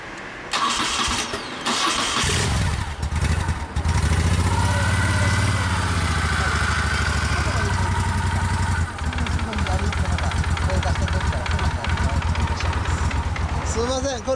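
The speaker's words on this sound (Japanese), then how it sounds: "ごめんなさい、エンジン音聞かせてもらえますか。" A 1998 Honda VFR800 V4 motorcycle engine cranks over and catches, then settles into a loud, steady close idle with a rough rumble that continues for over ten seconds, with voices briefly heard around it.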